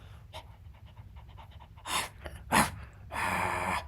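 A person imitates a dog panting: quick, quiet, breathy huffs at first, then a few louder gasping breaths and a longer final pant.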